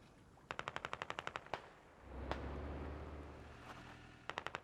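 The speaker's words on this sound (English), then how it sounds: "Was taking a little bit of small arms fire here." Small arms fire in the game Insurgency in a Fallujah setting: quick bursts of automatic shots crack in a fast, even rhythm, pausing for a low rumbling swell before another short burst ends the clip.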